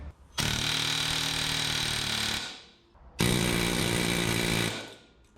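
A pneumatic air hammer hammers a heated part into a 1976 GMC short bed truck's suspension, delivering two loud sustained bursts of rapid-fire impacts, the first about two seconds long and the second about one and a half, separated by a brief pause.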